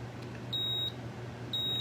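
Heat press for heat transfer vinyl on trinket boxes sounding two high electronic beeps, each about a third of a second and spaced about a second apart, over a quiet low hum.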